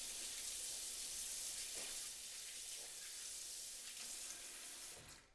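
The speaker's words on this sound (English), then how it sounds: "Always wash your hands thoroughly with antibacterial soap and water before you start." Tap water runs steadily into a sink while hands are washed with antibacterial soap, a continuous close splashing hiss with a few brief rises in spattering, fading out at the very end.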